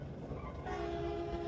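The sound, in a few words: train running on rails with horn, heard aboard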